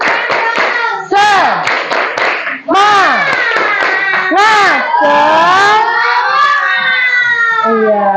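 A class of schoolchildren does a rhythmic spirit clap in the classroom, sharp clapping bursts mixed with loud chanting and shouting young voices close by.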